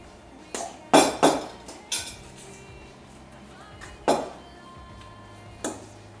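Sharp clinks and knocks of a utensil striking a bowl while waffle stuffing batter is mixed with a little extra flour, several separate taps spaced irregularly over quiet background.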